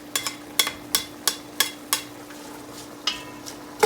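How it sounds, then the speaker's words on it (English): Creole mirepoix, the Holy Trinity, going into a still-hot pan for jambalaya, with a series of sharp clattering hits and a soft sizzle underneath. "This pan is still a little hot, so slide our Creole mirepoix, known as the Holy Trinity,"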